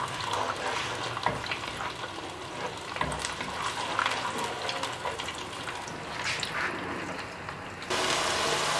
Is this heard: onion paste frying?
yes